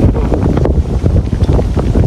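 Strong outdoor wind buffets the microphone with loud, low rumbling gusts that pulse and surge continuously, drowning out other sound.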